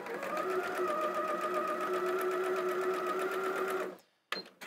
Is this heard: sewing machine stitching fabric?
yes